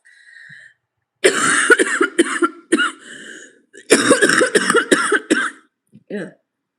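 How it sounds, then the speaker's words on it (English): Repeated coughing and throat clearing from a person in a casual live stream, several harsh bursts in two clusters, close and fairly loud, with a short final cough. "been having this cough"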